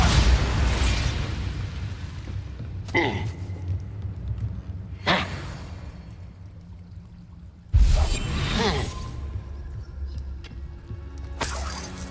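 Bombarda explosion spells in the video game Hogwarts Legacy go off as four separate booming blasts, each a sharp burst trailing into a low rumble, spaced a few seconds apart against a dim ambient background.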